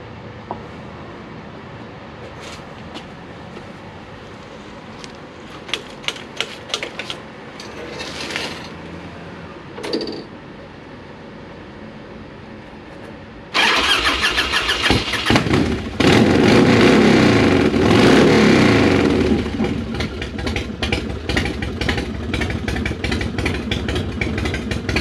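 Harley-Davidson Road King motorcycle engine cranking, then firing up loud and close into a rough, steady idle with repeated throttle blips, after several clicks and short bursts from failed start attempts.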